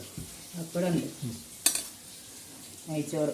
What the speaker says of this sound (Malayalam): പപ്പടം പൊരിച്ചേക്കണ്